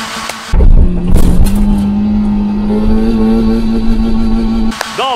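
A Fiat Seicento, just given an engine flush, revs up sharply and then drives with a steady, loud engine drone, pitch climbing slowly before easing off; a short burst of higher revving follows at the end.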